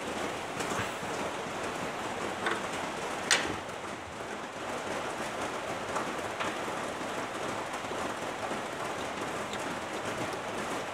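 Coolant pours into a car engine, about 14 litres, in a long, steady hissing stream close by, with an occasional faint clink, continuous and even throughout.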